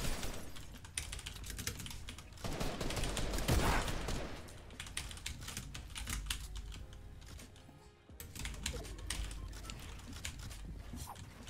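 Video game gunfire in a rapid, dense stream of sharp cracks that runs almost unbroken, with a brief pause near the end before resuming, fairly quiet overall.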